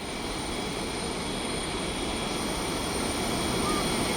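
A steady, even roar of rushing water from Marmala Waterfalls, continuous and broadband with no breaks, filling the whole clip.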